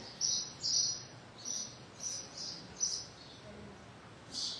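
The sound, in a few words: birds singing outside, heard through a church window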